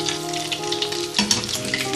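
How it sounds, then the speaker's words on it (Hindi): Fish balls deep-frying in oil until golden, a loud, dense, continuous sizzle with bubbling crackle up close, with no talk. "इनको नाइस गोल्डन कलर में फ्राई कर लेंगे."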